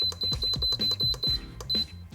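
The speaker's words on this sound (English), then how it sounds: "The timer just went off." A pressure cooker timer beeps repeatedly in a quick, even series of bright electronic tones, close and clear, after cooking hard boiled eggs at high pressure.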